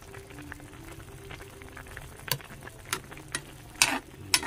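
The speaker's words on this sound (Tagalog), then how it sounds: "hayaan lang muna natin siyang kumulo pa" Opo squash and chicken simmering in a pot with tofu, a faint low bubbling under quiet room tone, broken by a few sharp clicks and taps near the end.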